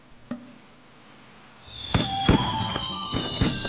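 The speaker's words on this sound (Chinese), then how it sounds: "空中这时炸开无数道烟花，绽放在这个绚丽的夜晚。" Fireworks burst in a night sky: a single faint pop early on, then after a quiet stretch a run of sharp, loud bangs with crackling tails that follow one another at uneven intervals.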